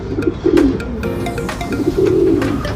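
Several racing pigeons coo in low, overlapping, throaty bursts, with fluttering and scattered clicks around them. The sound is close and steady, and no one speaks.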